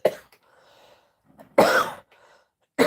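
A person with a cold and fever coughs, first a weak throat sound, then two loud, close, harsh coughs separated by quiet breathing.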